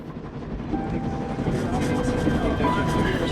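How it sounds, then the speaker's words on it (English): A train travels steadily in the 11-11: Memories Retold video game, a continuous low rumble and rolling rattle with faint tonal whines, while a voice narrates over it. "And so I'm on a train heading out of Germany, where I write to you now."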